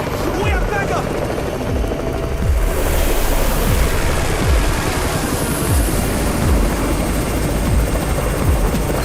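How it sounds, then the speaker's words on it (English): Raven's helicopter in the zombie game Undawn thumps steadily with rotor beats under loud wind-like rushing and game ambience, with voices talking. "It's the Raven's chopper! We have backup!"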